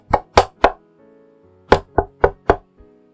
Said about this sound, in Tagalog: biglang may kumatok mula sa labas